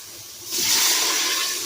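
After a short quiet moment, water rushes and splashes steadily into a stock pot, a close hissing pour that continues to the end.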